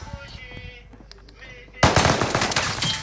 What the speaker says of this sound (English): They shoot me.